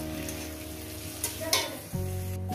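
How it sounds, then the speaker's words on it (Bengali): Masala for a catla fish head and cauliflower curry sizzles steadily as it is sautéed in a pan, with a couple of stirring scrapes and a short clatter near the end. "এবার এটাকে একটু কষিয়ে নেব"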